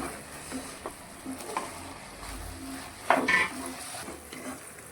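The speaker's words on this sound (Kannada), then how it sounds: "ಇದಕ್ಕೆ ಫ್ರೈ ಮಾಡ್ಕೊಂಡಿಟ್ಟಿರೋ ನಾನು ಹಾಗಲಕಾಯಿಯನ್ನು ಮಿಕ್ಸ್ ಮಾಡ್ಕೊಳ್ತಿದ್ದೇನೆ" Fried bitter gourd is stirred into a masala in a pan, with a soft, steady sizzle under scraping utensil strokes and one louder clank near the end.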